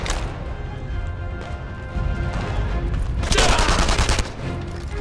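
Dense gunfire in the video game Enemy Front, a near-continuous rattle of shots with a louder burst partway through, under game sound and someone talking.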